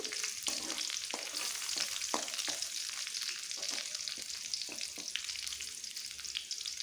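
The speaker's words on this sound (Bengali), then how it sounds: "এখন একটা শুকনো লঙ্কা চিড়ে তেলে দিয়ে দিচ্ছি।" A slit dried red chilli fries in oil with garlic for a fenugreek leaf dish, a soft steady sizzle with a run of light stirring taps and scrapes throughout.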